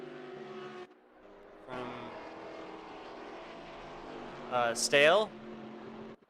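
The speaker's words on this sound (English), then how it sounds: "Love the various engine noises coming through the from around the track right now. Maserati, Chevy, Audi." Race car engines of Maserati, Chevy and Audi GT4 cars drone and scream around Brands Hatch in Assetto Corsa Competizione, a steady engine tone under a commentator's voice, rising to a loud high-pitched pass near the end.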